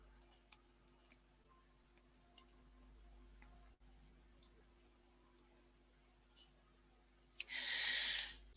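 Sharp computer mouse clicks on search results in a periodicals database, a handful of isolated, quiet ticks spread across a near-silent room, ending in a louder burst of rustling noise.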